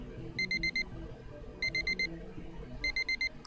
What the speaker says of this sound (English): so that's what the alarm sounds like